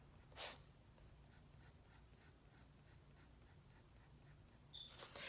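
A graphite pencil shades a leaf drawing on paper with close, faint, steady strokes in an even scratching rhythm, and one or two slightly louder scrapes are heard near the start and end.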